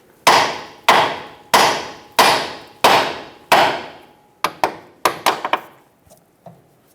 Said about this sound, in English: With the help of a hammer, tap the side of the knuckle right here.